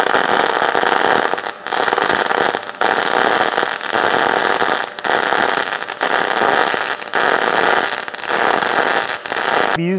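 An Arc Captain MIG 200 welder laying a bead on three-eighths steel plate, a loud, continuous, close crackling hiss lasting the whole stretch, with brief regular dips in the sizzle and no voices.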